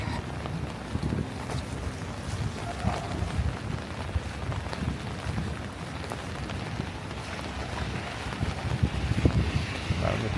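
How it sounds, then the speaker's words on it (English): Steady rain patters on a hard surface outdoors on a Manhattan street, with a low rumble of wind and distant traffic underneath. "It's just rain, right?"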